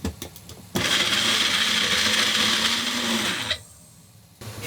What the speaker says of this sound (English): you pop this bad boy on the blender and let it all emulsify